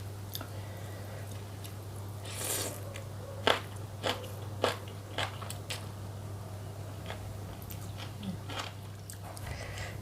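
Khanom jeen rice noodles with stewed, very tender chicken feet in curry sauce being eaten, with a few soft crunchy bites and chewing sounds over a steady low hum, close and fairly quiet, no talking.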